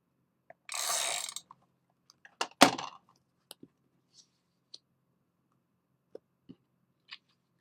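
A burst of crinkly, rasping tape noise, then a sharp crackling pull, followed by a few scattered faint clicks and ticks.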